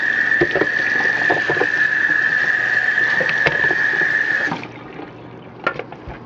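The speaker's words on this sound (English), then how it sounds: "So I'm draining them, and I like to just give them a real quick rinse" Cooked beans for a three-bean chili are drained and rinsed under a running tap, a steady loud rush of water that stops partway through, followed by a few small clanks and drips.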